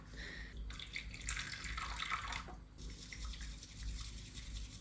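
Water pouring from an old, leaky kettle, with splashing and dripping as it spills everywhere; a steady, close liquid flow continues throughout with slight variations, no talking.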